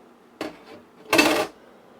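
A spoon knocks against a dish holding a pineapple, turmeric and ginger drink: two short, close clattering contacts, the second longer and louder, with quiet between.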